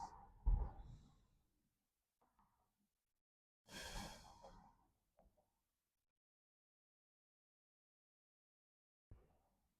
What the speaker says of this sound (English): So close your eyes and take 3 deep breaths.